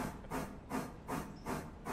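A steam passenger train in the railroad simulation game Railroader chuffs out rhythmic hissing bursts of steam, roughly two per second, soft and steady with no talking.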